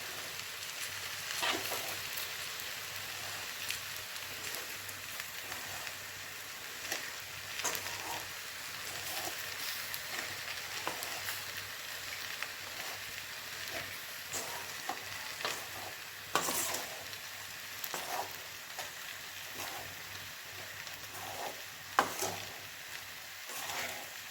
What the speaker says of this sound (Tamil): இந்த மாதிரி பக்குவமாக கிளறணும்.